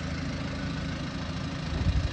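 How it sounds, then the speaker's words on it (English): A 1984 Mazda B2200 pickup's diesel engine idling, a steady low rumbling drone with slight roughness, close and continuous with no voices. "Mazda diesel engine."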